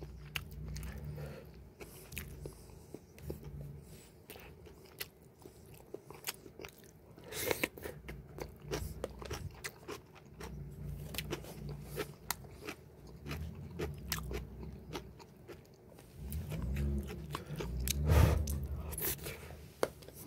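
Kimchi and a fried egg are eaten close to the microphone, with repeated crisp crunching bites and wet chewing in an irregular rhythm. Louder crunching bursts come near the middle and end, and there is no talking.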